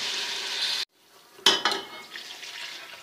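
Beef masala sizzles and fries loudly in a pressure cooker, cuts off abruptly, then bursts into a sharp hiss as water is poured in, settling into a softer bubbling sizzle.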